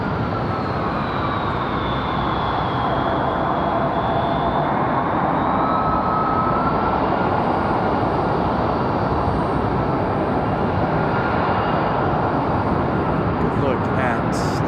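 A Republic Airways airliner at Raleigh-Durham International Airport, a loud continuous jet engine roar that holds steady and broadband throughout, heard from a spotting position near the airfield.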